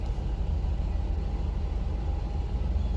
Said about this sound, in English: we'll just turn the engine on for a few minutes